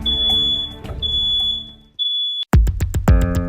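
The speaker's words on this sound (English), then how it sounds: "When seconds count, smoke alarms can save lives." A high-pitched smoke alarm sounds in long beeps, then a rapid series of loud, sharp pulses follows close by.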